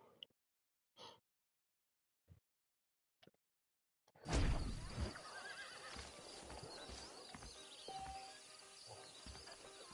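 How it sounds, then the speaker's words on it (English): A few faint clicks, then a horse whinnies loudly and hooves clip-clop over a busy background of ambience and effects in the video game Red Dead Redemption on PS4. "You already own a horse of that type, Steve."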